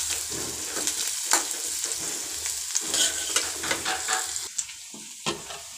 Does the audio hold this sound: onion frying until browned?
yes